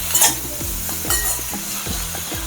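Snake gourd pieces cooking in hot oil in a pan for a yogurt chutney, with a steady close sizzle broken by regular scraping stirs and a brief clatter at the start. Nobody speaks.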